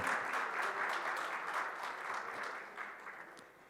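Loud applause from a conference audience at a Chilean security summit, welcoming a PDI police money-laundering brigade officer onto the stage; dense steady clapping throughout, easing slightly near the end.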